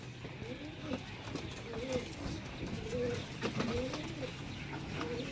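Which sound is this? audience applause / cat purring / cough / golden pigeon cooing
golden pigeon cooing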